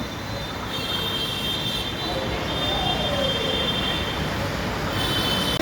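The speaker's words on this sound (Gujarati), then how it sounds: "ઉપર મેટ્રો ટ્રેન જાય છે" Metro train running on an elevated track above a BRTS bus stand, a steady rumbling rush with faint squealing tones, mixed with roadside traffic noise throughout.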